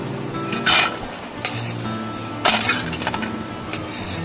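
Fried peanuts and curry leaves being transferred onto a plate, a few clinking scrapes of a utensil against dishware over faint background sizzle.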